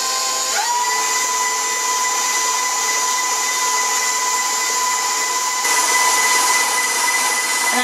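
An electric mixer whirs at a steady high pitch as it beats eclair choux dough after the last egg goes in, and its motor steps up to a brighter, louder whine partway through.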